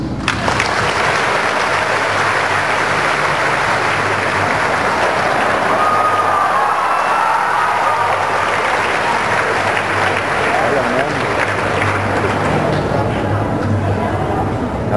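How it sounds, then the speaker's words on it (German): Loud, continuous applause and clapping from a large audience at a cosplay contest at the Animagic anime convention, steady throughout with some crowd noise mixed in. "Okay, und jetzt bitte klatschen."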